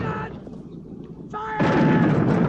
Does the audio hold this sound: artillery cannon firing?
yes